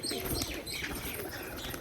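Pigeons cooing close by, a soft continuous murmur of low throaty coos with faint higher chirps layered over a dense background.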